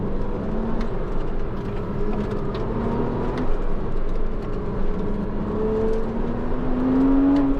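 A modified Porsche Cayman S in sport mode accelerating from inside the cabin, with a steady engine drone and a rising whine as revs climb toward the end, no talking.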